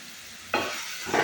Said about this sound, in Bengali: এবার মিশ্রণটিকে ততক্ষণ নাড়বো যতক্ষণ না মিশ্রণ থেকে তেল বেরিয়ে আসছে